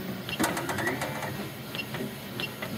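A 3D printer's print bed travels in jog mode under Xyzware control, producing a busy mechanical whirring and clicking motor sound throughout, close and moderately loud.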